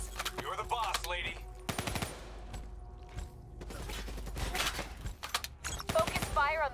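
Bursts of automatic gunfire in the Black Ops III campaign, sharp rapid shots near and loud, broken by short pauses, with a voice talking between the volleys.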